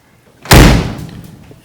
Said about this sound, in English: I have to slam this door